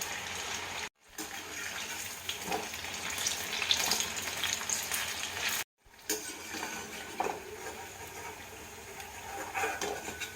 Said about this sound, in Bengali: এবার আমি এগুলো লালচে করে ভাজবো